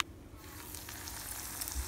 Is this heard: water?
no